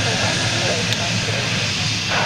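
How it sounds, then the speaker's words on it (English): An airliner at Zurich airport after a rejected takeoff gives off a loud, steady jet-engine roar with hiss, continuous and close. "So this is the rejected takeoff aircraft, folks."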